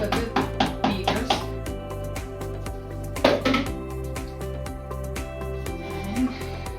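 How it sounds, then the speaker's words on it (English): Electric mixer beaters are rapped against a bowl to knock off chocolate bundt cake batter, giving a quick run of sharp knocks, then a lone louder one, over a steady low hum. "Knocking the mix off of the beaters."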